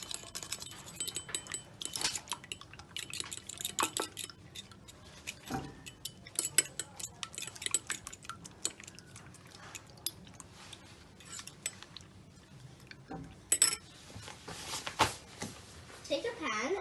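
Eggs, salt and pepper are whisked in a bowl, with quick metallic clinks and taps of a utensil against the bowl throughout while a person speaks over it.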